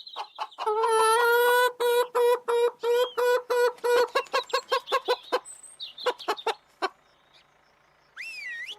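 Cartoon roosters and hens clucking in quick rhythmic bursts, a rapid run of clucks that trails off into scattered calls with a short whistle-like chirp at the end.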